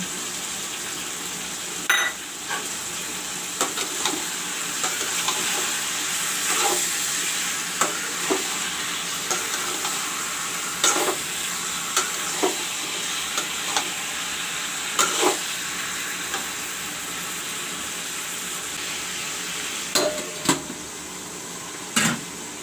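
Chicken sizzles steadily in hot oil, a constant crackling hiss broken by occasional light taps and scrapes of stirring.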